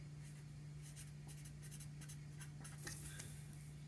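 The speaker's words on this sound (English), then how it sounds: "Okay, so then I'm going to write 15" Pencil scratching across paper while squares are marked out for an angle of insolation lab, soft and faint strokes over a steady low hum.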